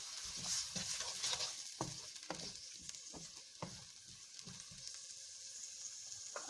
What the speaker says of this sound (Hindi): इसको हम थोड़ा सा पकाएंगे।